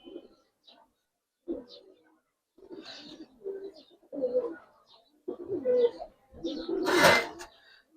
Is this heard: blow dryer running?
no